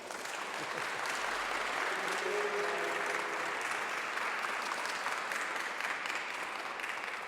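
Steady applause from a church congregation at a Spanish-language Catholic mission pastoral assembly, a dense, even clapping that fills the whole stretch without pause.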